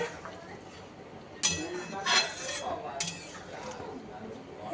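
Stirring a pan of ingredients with three or four green chillies, with scattered metallic scrapes and clinks of a spoon against the pan over a low kitchen background.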